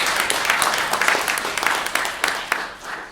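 An audience gives a round of applause at an Office des professions du Québec event, a continuous patter of many hands with a few sharper claps standing out, moderately loud and fading slightly toward the end.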